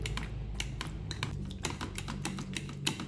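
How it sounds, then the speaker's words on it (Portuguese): Avocado being mashed for guacamole makes repeated close, squelching and tapping strikes at an irregular, quick pace for a few seconds, with no talking. "A gente primeiro vai amassar o abacate."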